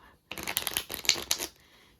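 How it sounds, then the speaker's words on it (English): A deck of playing cards is riffle-shuffled once, producing a quick, close burst of rapid papery flutters lasting just over a second with no talk. "I shuffle."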